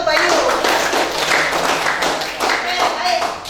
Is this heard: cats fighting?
no